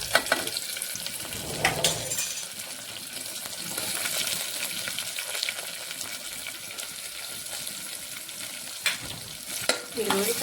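Onion and tomato frying in a pan for pulao, a continuous sizzle with bursts of stirring and scraping and a few louder clatters close by.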